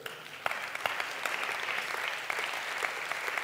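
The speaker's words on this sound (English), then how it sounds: "Ian, give them a round of applause." An audience at a talk on workplace skills claps steadily, a dense room-filling applause holding at an even level with scattered sharper claps and no voices.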